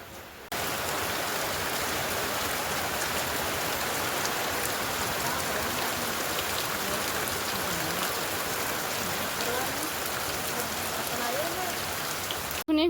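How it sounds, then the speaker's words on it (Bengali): A heavy rain shower pours down in a dense, continuous hiss of drops drumming on surfaces, steady and unbroken from start to finish. "বেশ ঝমঝমি এক ফসলা বৃষ্টি হয়ে গেল"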